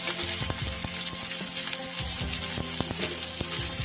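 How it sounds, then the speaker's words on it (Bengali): Chopped capsicum frying in a pan for chili paneer gives a loud, continuous sizzle, dotted with quick clicks and scrapes from stirring, with no voices. "এবার এর উপরে দিয়ে দেবো আমি কেটে রাখা ক্যাপসিকাম"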